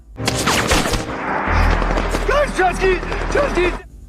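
Gunfire rings out during a war film battle scene set in the Iraq invasion, several sharp shots over a low rumbling boom, mixed with shouting voices and whistling, ringing tones.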